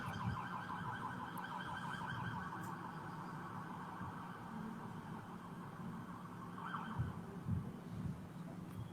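Ambulance siren wailing outside at a steady distance, a continuous two-tone cycle under low background rumble, with no talking.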